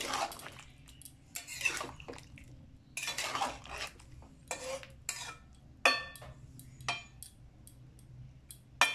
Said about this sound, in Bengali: আমরা ধীরে ধীরে নাড়াচাড়া করতে থাকব এবং শিরাটা ধীরে ধীরে শুকিয়ে যেতে দেব